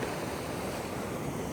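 Small ocean waves breaking off the Mentawai Islands make a steady, broadband wash of surf, continuous and fairly loud for the whole stretch with no voices.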